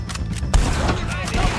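Gunshots in Red Dead Redemption 2, a few quick close reports within a second and a half, over game sound and voice.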